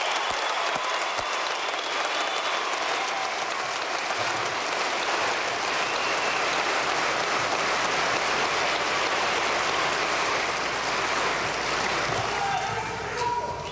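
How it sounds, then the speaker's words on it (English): Sustained audience applause at a 2021 high school commencement, a dense wash of clapping from a large crowd in a hall that runs steadily throughout without letup. "please join me in honoring these deserving students with a round of applause"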